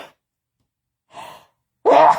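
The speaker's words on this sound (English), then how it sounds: "Oh, I have a sneeze." A single sharp sneeze bursts out during a live stream after a couple of soft breaths, close and loud, with a short exhale trailing off.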